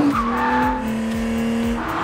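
An Acura NSX Type S engine in Sport Plus mode drones loudly and steadily at close range, with a sustained tonal exhaust note and no voices.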